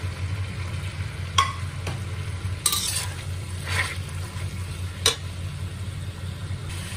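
Black mushrooms stir-fry in a pan with snow peas and tofu, a soft steady sizzle beneath a low background hum, broken by a few sharp scrapes and taps of a utensil against the pan.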